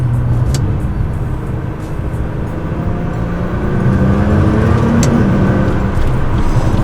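An R35 Nissan GT-R cruises with a loud, close engine drone and road rumble inside the cabin, swelling slightly as it picks up speed partway through.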